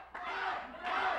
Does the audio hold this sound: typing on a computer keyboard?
no